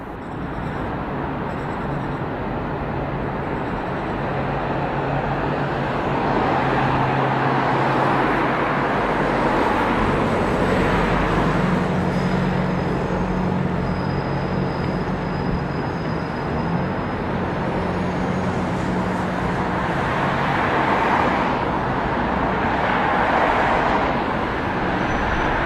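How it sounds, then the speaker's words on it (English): London double-decker buses, including ones on Routes 9 and 10 near Hammersmith, rumble past in steady street traffic, their engine drone rising and fading over a constant roadway noise. "London United's LT70 on Route 9 and LT84 on Route 10 near Hammersmith"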